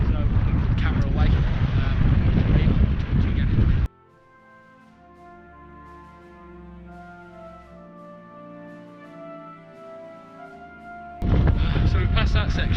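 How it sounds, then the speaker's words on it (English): Strong wind buffets the microphone on an exposed mountain ridge trail at Pen y Fan, a loud broadband roar that cuts out into a quieter tonal lull before slamming back in. "it is still quite windy"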